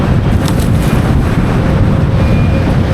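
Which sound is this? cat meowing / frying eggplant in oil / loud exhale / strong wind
strong wind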